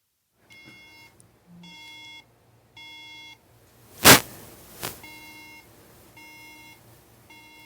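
A MacBook Air logic board, model 820-3024, emits repeated electronic beep patterns in evenly spaced bursts, interrupted by a sharp loud click and a softer knock midway.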